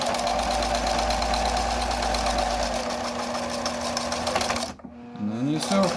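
A sewing machine stitching a fabric face mask runs in a steady fast mechanical whir with rhythmic needle ticking, close and loud, then stops briefly as the fabric is turned before a short restart.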